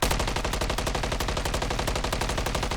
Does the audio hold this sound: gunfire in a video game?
yes